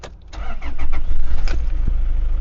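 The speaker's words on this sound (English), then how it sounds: "They've added a lot more torque to these engines, and so let's fire it up and take a listen." A Toyota Camroad 4x4 diesel camper fires up: a short starter crank, then the engine catches and settles into a loud, low, throbbing idle close by, with no talking.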